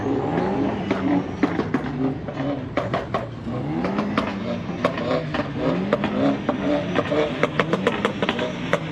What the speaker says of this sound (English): Somebody's having a bit of spooling over there as well.